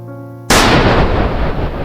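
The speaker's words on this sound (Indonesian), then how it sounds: "suara tembakan" A single loud, sharp gunshot at a crowded public speaking event cracks after a brief tonal hum, its boom decaying into a long rumbling echo.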